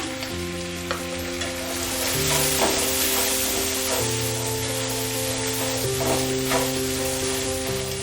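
Ground masala with salt and turmeric sizzling in a pan for a samosa filling, a constant hiss with occasional stirring scrapes under steady background music.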